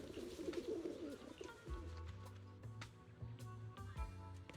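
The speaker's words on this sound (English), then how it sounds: "We feed pigeons on a professional standpoint." Pigeons coo softly and repeatedly while being fed, low rhythmic burbling calls close by over background rustle and ambient noise.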